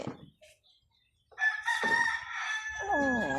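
A rooster crows loudly and close by in one long drawn-out call, preceded by a few faint clucks and near silence. The bird is blind.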